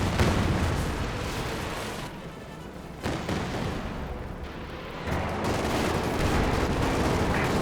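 A Katyusha rocket artillery barrage in the video game Company of Heroes 2 pounds away with loud, dense salvos of explosions and rumbling blasts, easing briefly and then surging again, no voices.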